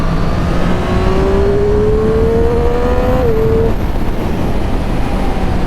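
Triumph Street Triple RS motorcycle accelerating hard, engine note rising steadily under loud, constant wind rush, with no talking.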